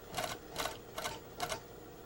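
A sewing machine stitches across a sleeve placket in four short, evenly spaced bursts of rapid mechanical chatter, close and fairly quiet, with brief pauses between runs.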